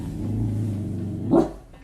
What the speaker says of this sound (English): her dog barking into the darkness